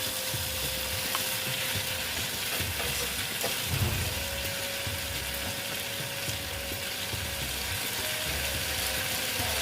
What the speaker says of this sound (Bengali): আন্দাজ মতো নুন দিয়ে দিলাম দিয়ে ধনিয়া তুলে ভালো মতো কষিয়ে নিচ্ছি